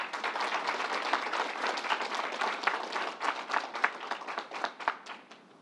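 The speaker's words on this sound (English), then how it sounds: "Let's give them a round of applause." An audience applauding at a governor's announcement in Syracuse, a burst of many hands clapping together that gradually thins into scattered, separate claps.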